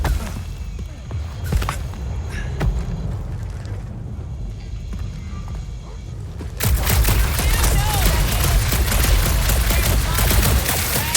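Rapid gunfire from the video game Marvel's Guardians of the Galaxy in a dark setting on a monster planet, scattered shots at first, then a dense, loud barrage of continuous shooting for the final seconds.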